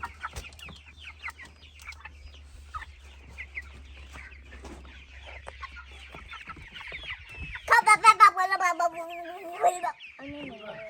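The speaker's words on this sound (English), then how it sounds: "Do you like the chickens, Eva?" Broiler chickens cluck softly and intermittently nearby, then a louder burst of squawking clucks rises near the end, with a few voices talking quietly.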